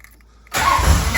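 A car engine cranks and catches after about half a second of quiet, then settles into a steady, close, loud idle.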